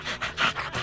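A dog pants in quick rhythmic breaths, about five short huffs in under a second, close and moderately loud.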